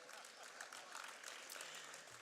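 Audience at a national sports awards ceremony clapping, a dense, even round of applause heard from a distance at low volume throughout.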